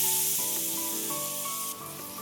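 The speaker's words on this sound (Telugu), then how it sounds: "ఇప్పుడు ఇదే నూనెలో కట్ చేసుకున్న ఉల్లిపాయ పచ్చిమిర్చి ముఖం కూడా వేసుకొని వేసుకున్నాం" Chopped onion and green chillies sizzle in hot oil in a home kitchen, a loud, steady frying hiss close up with no talking.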